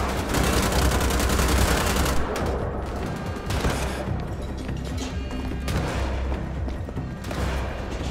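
Dense bursts of automatic gunfire and explosive impacts from the Wolfenstein: The Old Blood video game, set in the German Alps, rattle loudly and almost continuously, with brief lulls between volleys.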